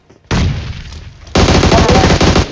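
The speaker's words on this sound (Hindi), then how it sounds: "मैं यहाँ पे एक नेड पिन करता हूँ इसी के ऊपर फेंकने के लिए" Grenade and gunfire sounds in BGMI's Mecha Fusion mode: a loud burst opens after a brief pause, then a second, denser and louder blast-like volley with rapid crackling carries on to the end, and nobody speaks.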